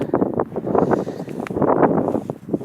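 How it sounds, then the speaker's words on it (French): Outdoors during a metal-detecting outing, wind buffets the microphone in uneven rumbling gusts that rise and fall throughout, close and fairly loud, with no clear speech. "il y a un paquet de vent là"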